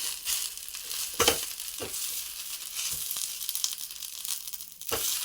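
Drumstick leaves fry in a pan with a soft continuous sizzle and occasional stirring scrapes and crackles, heard up close.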